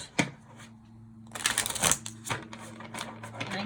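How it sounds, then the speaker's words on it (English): A deck of tarot cards shuffled by hand, close and crisp, with a sharp riffle at the start, a longer burst of rapid flicking, then several softer taps and snaps. "And I do shuffle and cleanse all of these decks beforehand as well."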